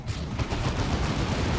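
Side cannon shots in a Dawn of War 2: Retribution battle, a dense, continuous barrage of booming fire and explosions at steady loudness throughout, with no voices.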